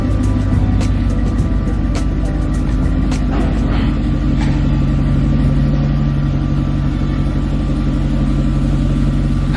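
A truck engine runs steadily with a throbbing exhaust rumble close by, low and continuous, with scattered sharp clicks and knocks over the drone.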